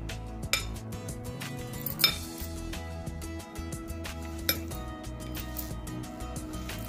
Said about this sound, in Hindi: उसमें हम इसमें एक चम्मच भर के नमक डाल देंगे और इस नमक को अच्छे से हिला देंगे